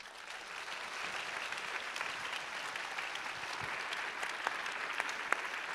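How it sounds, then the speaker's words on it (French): A conference audience at a finance event applauds steadily for several seconds, a dense, even wash of clapping from a large hall with no voices above it. "c'est lui qui va vous remercier avec les applaudissements de toute la salle"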